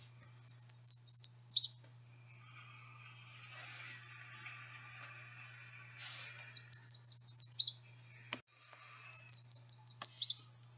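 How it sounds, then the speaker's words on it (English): American redstart singing: three bright bursts of high, rapid clear whistles, each building and then stopping abruptly, with long quiet gaps between and a faint low hum beneath. "One very common song type is one that builds with some clear whistles and then terminates suddenly."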